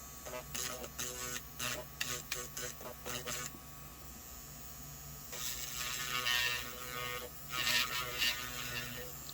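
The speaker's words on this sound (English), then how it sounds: "you can go and drill down into it" Small rotary drill boring into a cured UV resin glitter heart keychain, a steady motorized whine with bursts and pauses as the bit engages, close and moderately loud.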